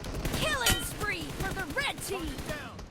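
Gunfire in the PUBG Mobile game, fought from a rooftop in an 8v8 match, rattles as rapid bursts of shots. Bright whooshing and chirping game effects and sounds rise and fall around the shots.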